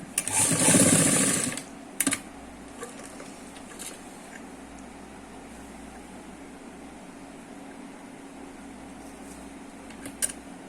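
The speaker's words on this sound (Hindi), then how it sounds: "और फिर हम यहाँ पर एक सिलाई लगाएंगे इस कपड़ा को हाफ इंच अंदर करते हुए" A sewing machine runs a half-inch seam on palazzo pants fabric in one brief, loud whirring burst at the start, followed by a low, quiet room hum with a few faint clicks.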